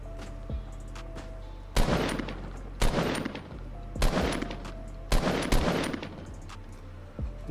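Gunfire in Fortnite Battle Royale, several sharp bursts of shots spaced about a second apart, each ringing with a decaying tail, fairly close and loud with no talk over them.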